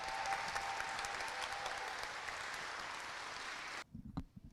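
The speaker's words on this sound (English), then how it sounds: "How about giving them a big round of applause?" A crowd at a 7th grade awards ceremony applauds steadily for several seconds, then the clapping cuts off abruptly, leaving a few scattered claps and faint room noise.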